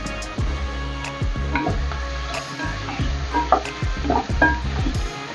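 Turmeric and coriander powder fry with tomato in a pan for gorikai palya, a close sizzle under repeated scraping and clacking strokes of a spoon stirring, with no voices.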